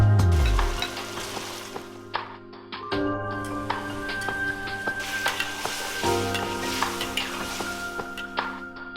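Liangfen jelly stir-fried in a pan with scallion, garlic sprouts, chili and homemade soybean paste; a steady sizzle runs throughout, with stirring scrapes and a few light clinks.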